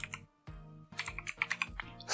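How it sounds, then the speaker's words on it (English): Someone types a command on a computer keyboard, sending quick close clicks in short bursts separated by brief pauses and ending in a rapid flurry of keystrokes. "Here you have to type command"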